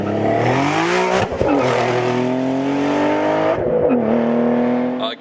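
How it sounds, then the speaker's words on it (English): A Greddy twin-turbo 2007 Nissan 350Z making 500+ hp, with a polished stainless Motordyne TDX exhaust, revs loud and close, its engine note climbing through gears with brief dips at two shifts. "let alone the sound of the exhaust system"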